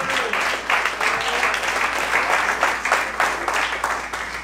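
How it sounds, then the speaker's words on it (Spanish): A church congregation gives a sustained round of applause during an afternoon service, dense clapping at an even level with no talk over it. "Alguien que dé un fuerte aplauso, Señor, en esta tarde."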